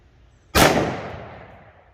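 A single sharp gunshot from a Colt Delta Elite 1911 firing 10mm Grizzly 200gn JHP ammunition, loud and close, with a long reverberant tail fading outdoors.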